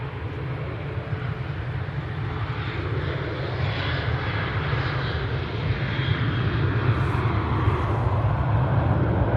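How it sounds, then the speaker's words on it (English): An Emirates airliner's engines start up at Manchester Airport, a low steady rumble and whine that grows gradually louder. It is heard from a distance with no talking. "You can hear the Emirates starting up."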